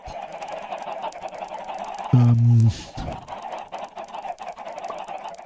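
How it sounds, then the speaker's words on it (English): Chickens in Minecraft give a short, loud burst of clucking partway through, standing alone above a steady background of game ambience. "I just need to throw some eggs at some chickens."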